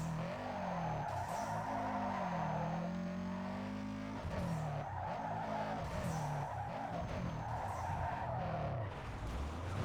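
Tires squealing and skidding through a mountain drift event in Need for Speed Underground 2, a long continuous screech over a revving engine that surges and eases in waves, close and loud with no talk.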